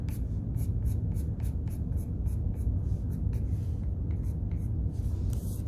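Pencil hatching quick parallel strokes on paper while shading a pumpkin drawing, a close, steady series of short scratchy rasps in a fast, even rhythm.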